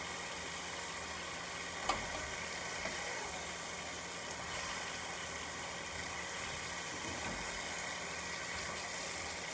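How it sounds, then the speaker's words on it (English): Chicken searing in a pan, a steady faint sizzle running throughout with a couple of small ticks, no talking. "Those are still searing."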